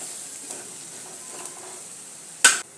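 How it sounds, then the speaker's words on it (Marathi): Ground spice paste being sautéed in oil makes a soft, even sizzle with faint stirring. A short louder scrape of a spoon on the pan comes near the end. "हे सर्व मसाले वाटण तेलामध्ये परतून घ्यायचे चांगले"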